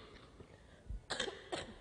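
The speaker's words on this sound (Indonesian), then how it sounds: "Maaf, sedang batuk." A person coughs twice in quick succession, short bursts close to the microphone in an otherwise quiet indoor setting during a family worship service.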